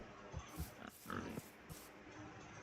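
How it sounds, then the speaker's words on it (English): Minecraft pig giving a few short grunts in a game, a handful of brief separate snorts over a steady background hum, moderately quiet and without talk. "That's a pig, isn't it?"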